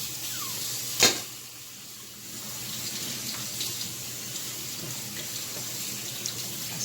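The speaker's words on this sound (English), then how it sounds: "pour them in the sink in my colander so they can drain the water off of them" Hot pasta water poured from a pot into a colander in a kitchen sink, a soft continuous splashing rush after a sharp clank near the start, fairly quiet and steady, no talking.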